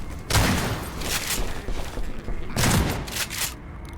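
Shotgun blasts ring out in a video game, two heavy booming shots about two seconds apart, each with a rumbling tail and scattered clatter between them.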